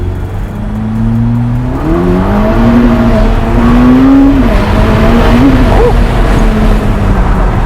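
A Ferrari SF90 Stradale hybrid supercar accelerates hard in manual mode, its engine note climbing and stepping through gear shifts, loud and close with a rushing, buffeting background.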